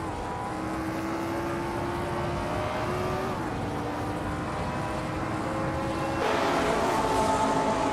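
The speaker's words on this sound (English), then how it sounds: "Bot GMN Prime is driving a Porsche 804 from 1962" A 1962 Porsche 804 race car in a racing video game drones at a steady high pitch, its engine tone holding level with small shifts, then stepping up louder and brighter near the end as it accelerates.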